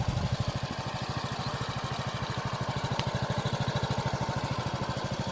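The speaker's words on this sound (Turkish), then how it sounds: "Gördüğünüz gibi motorun sesi hala" A 150cc Kuba Rubano motorcycle engine idles close up with a steady, rapid pulsing thump, loud and even throughout, no voices.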